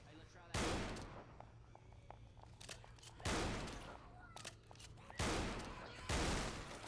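Four loud bursts of gunfire ring out at intervals, each booming blast decaying slowly, with quieter clicks and faint talk between.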